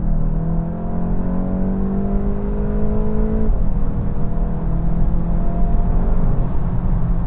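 A tuned 2024 Volkswagen Mk8 GTI with a Stage 1 tune accelerating, its engine note rising steadily in pitch, briefly dropping at a gear change and then climbing again, a continuous loud drone heard from inside the car.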